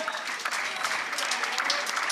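Spectators at a professional pickleball match at an indoor Kansas City open break into steady, dense applause of moderate loudness that fills the moment after a rally.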